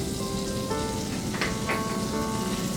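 Garlic sizzles in melted butter in a non-stick pan, a close, steady crackling hiss with occasional sharper pops.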